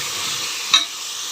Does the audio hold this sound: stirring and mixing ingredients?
yes